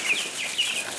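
Young chickens in a chicken barn make soft chirps and clucks, a brief faint scatter of high peeping calls over a light background hiss.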